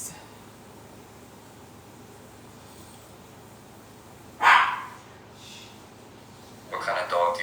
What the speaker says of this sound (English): What kind of dog do you have? A multi-poo, and he's so trying to get my attention.